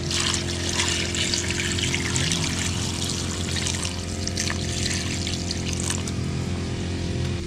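Water runs steadily from a tap while salmon sinigang with miso and ginger is prepared, a loud, continuous rushing stream with no pauses.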